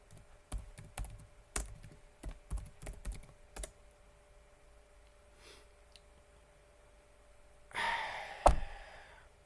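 Keys clack in short bursts on a computer keyboard during an Arch Linux install, a run of close, separate taps followed by a brief louder rustle and thump, with no talking.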